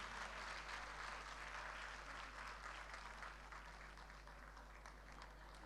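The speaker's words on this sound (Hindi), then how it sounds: "तालियां कुछ कम लग रही हैं" Dense, sustained applause from an audience at a formal Indian welcome ceremony, a continuous clapping wash heard alone, fairly faint and tapering slightly toward the end over a low steady hum.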